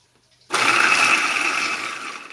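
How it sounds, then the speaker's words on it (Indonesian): A blender grinding spices for soto ayam switches on abruptly after a brief quiet moment, then runs as a loud, close, steady whirring roar that eases slightly toward the end. "Kita haluskan bumbunya ya teman-teman"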